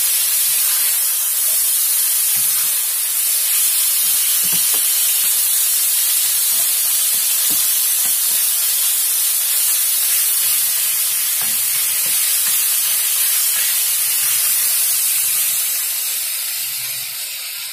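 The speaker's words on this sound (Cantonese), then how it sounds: "兩面都煎一煎佢" Pork ribs pan-frying for a home-style potato and pork rib braise, a loud steady sizzle and hiss of hot fat that runs unbroken throughout, with faint low knocks of the pan beneath.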